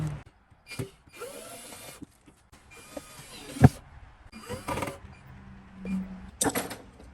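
A power drill drives screws while a dryer vent is installed in a flood-damaged RV, several short whirring bursts with pauses and a few clanks between them, close and fairly loud.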